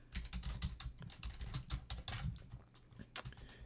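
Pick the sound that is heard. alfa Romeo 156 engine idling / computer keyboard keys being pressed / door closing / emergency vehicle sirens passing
computer keyboard keys being pressed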